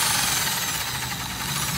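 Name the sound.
Japanese domestic hammer drill running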